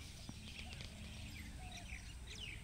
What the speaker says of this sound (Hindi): वैसे देखिए अब एक चिड़िया भी है